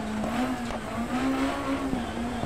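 A rally car races in the Dirt Rally video game, its engine droning steadily at high revs with a few sharp pops and crackles breaking through, loud and close with no voices.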